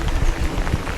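Steady rain falls on a garden with a freshly fertilised green lawn, a dense close patter of drops that stays even throughout with no talking.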